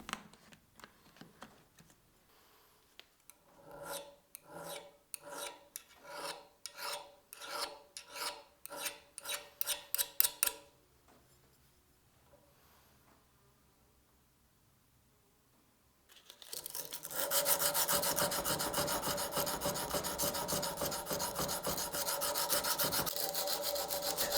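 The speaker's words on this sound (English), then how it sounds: "I test the hardness of the hammer face and peen by using my trusty old Japanese Rockwell files" A Japanese Rockwell hardness-testing file rasps rhythmically across a heat-treated steel hammer face in about a dozen strokes, followed by a pause, then a louder, continuous grinding rasp.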